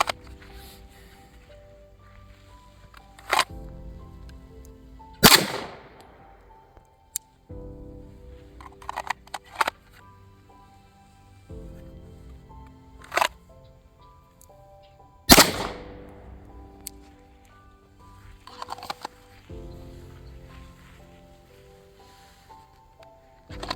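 Pistol shots fired from a draw stroke during handgun training, with two sharp, loud reports about ten seconds apart, each followed by fainter clatter and handling noise in an otherwise quiet range.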